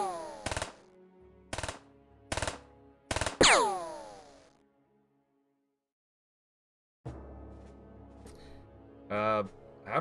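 Gunfire in The X-COM Files game, with four sharp bursts in quick succession and a final louder shot that rings out and decays, a silent gap, then another round of shots and impacts.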